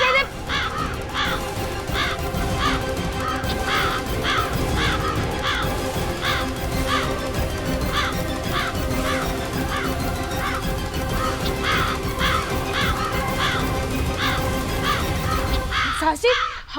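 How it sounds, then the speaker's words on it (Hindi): A crow caws again and again in a steady series of harsh calls throughout, set over a continuous droning background. "हमने तो कौवे को अब तक सिर्फ रोटी ले जाते हुए देखा है"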